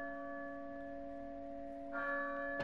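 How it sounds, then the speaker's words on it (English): A church bell tolls in the village of the video game Resident Evil 4, its sustained ringing tones steady, then swelling as another strike lands near the end, with no talk over it. "To the bell. It's time to pray."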